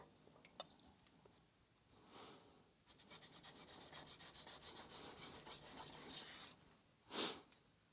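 A knife blade stroked over a vitrified 1000 grit whetstone, producing a quiet, close run of rhythmic gritty rasping strokes, preceded by a single smoother swipe and ending with one stronger separate pass, with no speech.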